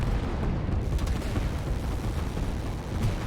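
Rocket artillery firing in a strategy video game, a dense, continuous roaring blast of rumbling noise that stays loud and sustained throughout, with no speech.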